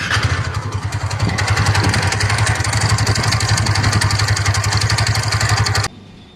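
TVS Ntorq 125 scooter with a worn magnet one-way starter clutch, running steadily with a rapid metallic clatter over the engine drone, loud and close, alone for about six seconds before cutting off.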